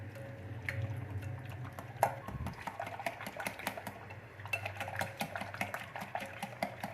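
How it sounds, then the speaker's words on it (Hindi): Yogurt being whisked in a bowl while preparing raita for a green chickpea pulao, giving a soft, steady run of clicking and wet stirring taps close by, with no talking. "दही को हमने अच्छी तरह से फेंट लेना।"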